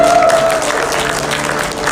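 Applause from an audience at a corporate award presentation for digital asset company Nagaya, steady and fairly loud clapping with a brief tonal whistle near the start.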